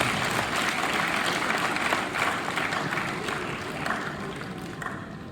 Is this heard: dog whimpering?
no